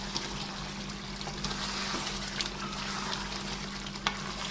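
White chicken karahi gravy simmers in a pan, giving a steady close sizzle and bubbling with faint stirring clicks throughout.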